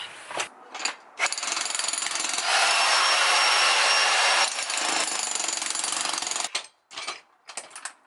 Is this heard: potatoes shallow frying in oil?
no